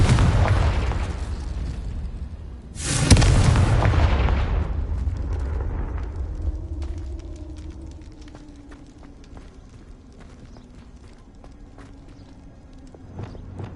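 Confringo spell blast in the video game Hogwarts Legacy: a single heavy explosion erupts, then a long crackling, rumbling tail slowly fades, with scattered small pops and no voices.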